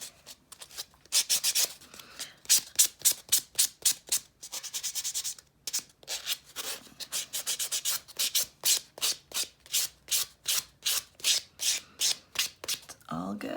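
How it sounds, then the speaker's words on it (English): Dip powder nails being worked over with a nail buffer, giving steady rhythmic scratchy rubbing strokes, close and fairly loud, with a brief pause partway through. "I'm just gonna come in with my buffer."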